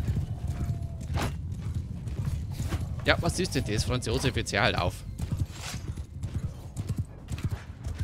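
Horse hooves clip-clop at a gallop in the medieval battle game Mount & Blade II: Bannerlord, a steady drumming of hoofbeats with creaks and a whinny, under someone talking.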